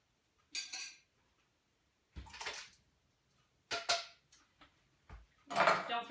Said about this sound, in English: And then we're just gonna put the stewed tomatoes right in.